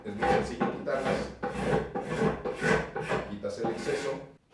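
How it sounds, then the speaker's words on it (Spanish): A scraper rasps dried glue drops off a wooden cutting board in a run of about six close, rough strokes, each a short gritty burst with brief gaps between. "es muy fácil quitarlas con una laina o con un scraper"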